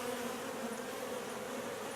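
Honey bees swarm around an open hive during a hive inspection, making a steady, dense, even buzz that stays close and unbroken throughout.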